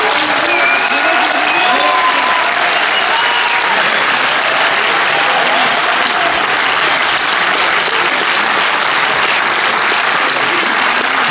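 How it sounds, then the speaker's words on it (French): A packed audience at a French film premiere claps loudly and continuously, a dense, close wash of applause with faint voices mixed in throughout. "Faites du bruit pour Liam Pierre, absolument."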